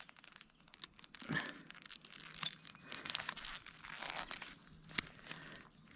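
Crinkly material being folded into an L shape for a rescue signal, giving soft, close crumpling and crackling with a few sharper crunches, fairly quiet throughout.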